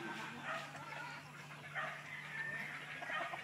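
Two four-month-old chickens clucking and scuffling in a fight, soft and somewhat distant, with restless broken clucks over a low farmyard hum.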